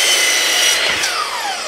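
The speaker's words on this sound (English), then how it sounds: "take this angle directly over to your miter saw and cut it at whatever angle you need" Miter saw cutting wood shelving, one short high whining cut with a bright sweeping pitch as the blade spins down, loud and close with no talk.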